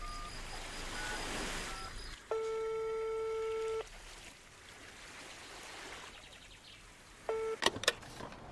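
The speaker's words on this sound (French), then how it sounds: "papa il va passer un coup de téléphone" Telephone call to a French maritime emergency line, with a steady ringback tone sounding twice, separated by a stretch of hiss and light background noise, then a brief burst of electronic tones at the end.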